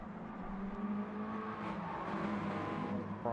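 Race cars in a sim racing video game, a steady drone of engines with shifting pitch, cars running together continuously at close range.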